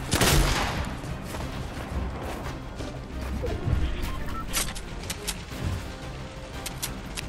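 Fortnite grenade launcher fire in a frantic battle royale build fight: a sharp blast opens, then scattered explosive thumps, cracks and crashes follow at irregular intervals at moderate loudness.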